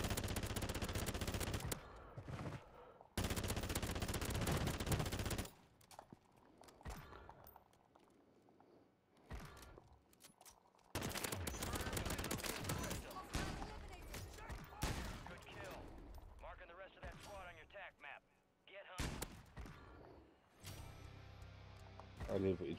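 Rapid bursts of automatic gunfire from a multiplayer shooter video game, loud and repeated in long volleys separated by brief gaps, with a player talking over parts of it.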